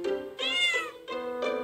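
A cat in a puzzle video game gives three distinct meows in quick succession, clear and close with short pauses between them.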